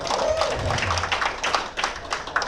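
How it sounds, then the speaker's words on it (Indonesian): A classroom audience applauds a group's micro-teaching presentation, a dense, continuous wash of clapping hands that stays fairly close and steady from start to finish. "Tepuk tangan sekali lagi"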